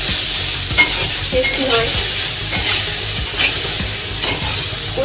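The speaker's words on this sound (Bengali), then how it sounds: "তাই একটু সর্ষে ফোড়ন দিয়ে ভাজবো।" Green mango fries in oil tempered with mustard seeds, giving a loud, close sizzle with frequent scraping stirs and clinks of a spoon against the pan, as a voice speaks briefly over it.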